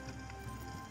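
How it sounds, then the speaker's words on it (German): Horse hooves clip-clop in the medieval video game Kingdom Come Deliverance, a quick run of soft hoof beats over a steady background wash during less than a second. "Wir nehmen unser Pferd mit, würde ich sagen."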